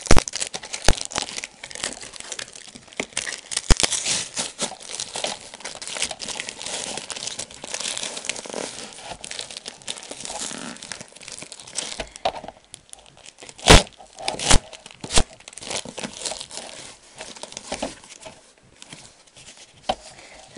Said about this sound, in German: Und da wollte ich das jetzt auspacken, weil die verpacken das immer sehr, sehr gut.